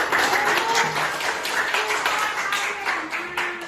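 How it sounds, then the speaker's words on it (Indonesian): Applause from a classroom group of student teachers, a steady wash of many hands clapping at close range that carries on for several seconds with faint background voices mixed in. "Kasih aplaus dulu."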